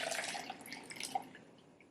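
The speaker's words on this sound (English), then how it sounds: "Give it a little rinse. swirl them around, give it a rinse." Water being rinsed and drained from sprouts in a jar gives a close, faint trickle with scattered drips and a brief splash, fading slightly toward the end with no talk.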